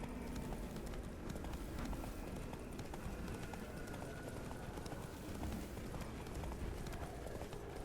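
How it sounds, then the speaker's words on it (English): Horse galloping in The Witcher 3 video game, a fast steady clip-clop of hooves pounding ground with rushing ambient noise, close and continuous throughout. "Run, Roach."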